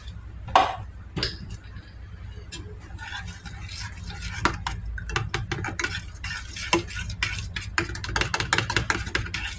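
A spoon stirs soup with whole milk or heavy cream in a pot, giving repeated scrapes and light clinks against the metal over a soft sizzle, close and steady.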